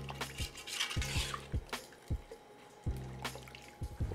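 Oxtail pieces being stirred into a braising liquid with jerk seasoning, giving soft wet sloshing and a string of small clicking knocks in an irregular rhythm, fairly quiet and close up, with no talking.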